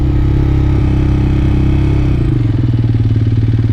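A Honda TRX250 ATV engine idles steadily and loud up close, running a little high and rich, with a faint clatter; partway through, the rhythm shifts to a lower, more pronounced pulsing chug.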